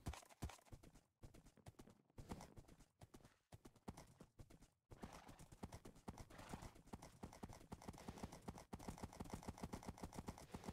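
Horse hooves clip-clopping as a player rides in Minecraft on the Hypixel server's Murder Mystery mode, a quick, steady run of clattering beats, close up and continuing without pause.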